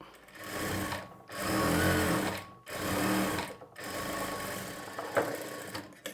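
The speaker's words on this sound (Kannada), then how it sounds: "ಆ ಮಾರ್ಜಿನ್ಗೆ ಒಂದು ಹೊಲಿಗೆ ಹಾಕ್ಕೊಳ್ಬೇಕು" Sewing machine running in several bursts as it stitches along a half-inch fabric margin during a tailoring lesson, steady motor whir broken by short pauses, loud and close with no talk.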